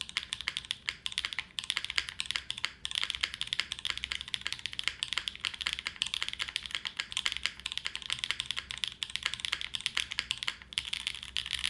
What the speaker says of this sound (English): Here's how the glass keyboard sounds.